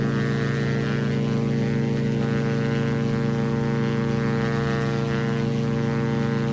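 Twin Diamond DA62 propeller engines at full takeoff power in X-Plane 11, a loud steady drone and whir holding constant throughout the takeoff roll.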